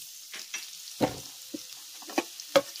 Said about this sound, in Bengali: এবার যখন আমি তেলের সঙ্গে খুব ভালো করে একটু ভেজে নেব রসুনটাকে